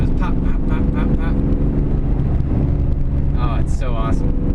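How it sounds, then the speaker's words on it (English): BMW E46 fitted with aftermarket eBay exhaust headers, its engine droning loudly and steadily close by, with a cluster of sharp crackling pops near the end. "it cackles. You can hear it like, it's almost like a backfire. It goes pop, pop, pop, pop, pop."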